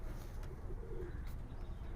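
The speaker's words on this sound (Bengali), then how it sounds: "এটা খুব সুন্দর একটা কাজ করা কবুতর।" A pigeon of the Pall line coos in a loft, a low continuous murmuring from a close bird with no voices over it.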